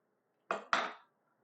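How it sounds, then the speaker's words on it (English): Two sharp knife chops through a zucchini on a cutting board, close and clear, the second stroke slightly longer, with no talk. "I'm just taking the zucchini and chopping it in half"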